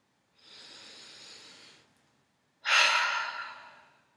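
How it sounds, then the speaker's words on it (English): A soft deep inhale through the nose, a short pause, then a louder, forceful exhale out during a relaxation breathing exercise, close and alone. "Taking a deep breath in and letting a big exhale out."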